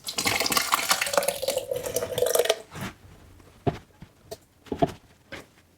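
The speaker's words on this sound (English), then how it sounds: "I'm gonna pour it into the blender before adding one more ingredient." Cooked peppers and berries for a purple hot sauce pour into a blender as a steady wet gush for about three seconds, followed by a few separate drips and splashes.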